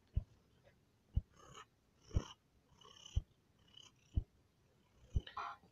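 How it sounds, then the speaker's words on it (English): A cat purring up close in a home, a soft rhythmic rumble with regular pulses about once per second, quiet and uninterrupted by talking. "he's a lovable, joyous little kitty cat."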